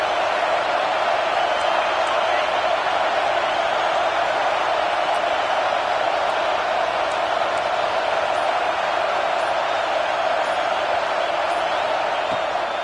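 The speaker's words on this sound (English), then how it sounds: "This crowd rising up, sensing that its defense needs some help." A football stadium crowd at a Miami versus Auburn game roars steadily through a third-and-goal play, a dense, loud, continuous wash of cheering with a commentator's voice underneath.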